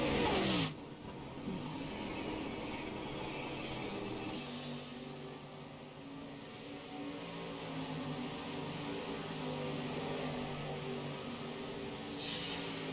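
Street stock race cars on a speedway track drone steadily as two cars battle for position, a continuous engine roar heard from a distance with no talk.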